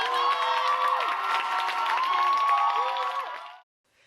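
Audience at a Seoul university vocal-performance graduation recital erupts in bravo shouts and clapping after an opera aria, a bright sustained burst of cheering with high voices that cuts off abruptly near the end.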